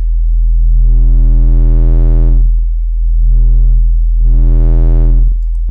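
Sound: sine wave with waveshaping distortion

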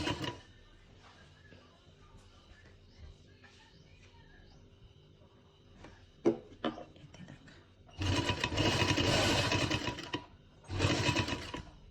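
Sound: sewing machine stitching fabric

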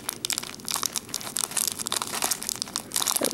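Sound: plastic bag crinkling while pouring out beads

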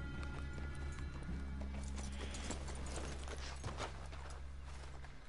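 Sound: horses walking, hooves clip-clopping, in video game Red Dead Redemption 2

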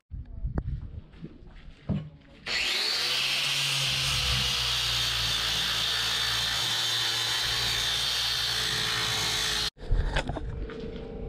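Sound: angle grinder grinding fibreglass rudder

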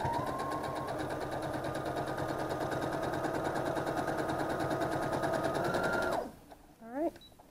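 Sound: sewing machine stitching fabric

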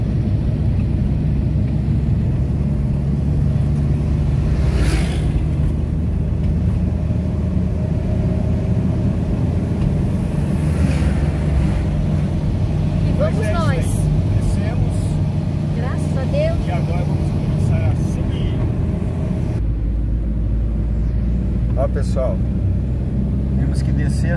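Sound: car driving downhill in second gear, engine braking

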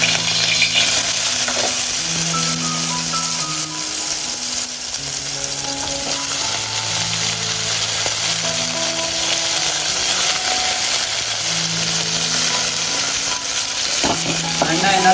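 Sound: sandge (dried lentil dumplings) frying in hot oil

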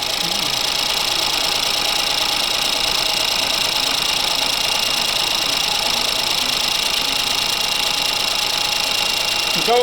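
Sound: car engine running rough, misfiring

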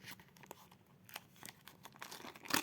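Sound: tearing open a pink paper surprise package

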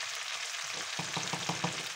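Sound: rabbit stew with garlic and parsley mortar sizzling, being stirred

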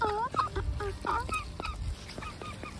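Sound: ducks making begging calls

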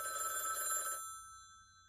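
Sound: telephone ringing in an advertisement

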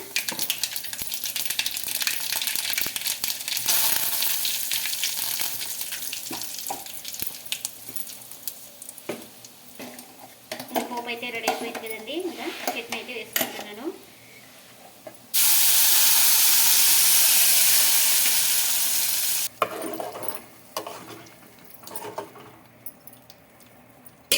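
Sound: tempering spices frying in a pan for chutney

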